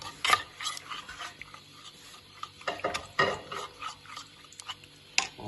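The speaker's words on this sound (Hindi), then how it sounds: "इसको अच्छी तरह चम्मच से मिक्स कर लेना है" A spoon stirs batter coating for potato aloo tikki in a bowl, producing soft, irregular scraping and clinking strokes close by, quiet and alone.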